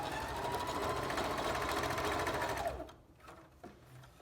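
A sewing machine runs a zigzag stitch along a pillowcase seam, a steady close mechanical whir with fast rhythmic needle pulses that stops near the end, followed by a few quiet handling clicks.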